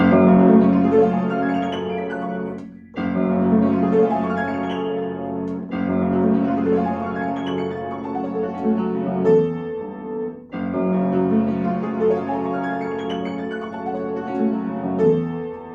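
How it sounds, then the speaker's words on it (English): Piano plays full, rich seventh chords from Grieg's Piano Concerto first movement in sustained phrases, hands alternating, with brief pauses between passages. "and then with the seventh chords, alternating hands"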